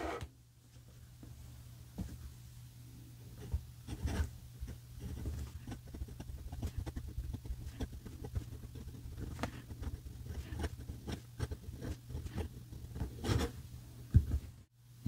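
A Montblanc 149 fountain pen with a fine cursive italic nib writes on paper, a soft, faint scratching with irregular taps and strokes over a low background hum, close and quiet.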